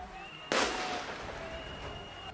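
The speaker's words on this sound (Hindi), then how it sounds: "भीड़ में शामिल कई लोगों ने तो पुलिस पर भी पटाखों से हमला कर दिया।" A single sharp firecracker bang cracks out during a crowd clash with police and decays into a noisy outdoor scene with a faint steady tone in the background.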